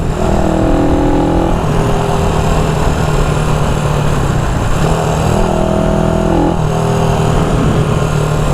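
A 1974 Honda CB360 motorcycle with freshly fixed carburetors rides in sixth gear, its loud close engine drone steady and smooth under rushing wind, with tonal swells as the revs shift slightly.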